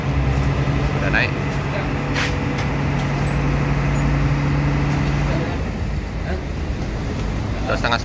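An Agra Mas intercity bus idles before departure, its engine a loud, steady low drone with faint hiss and clatter on top, while people talk nearby.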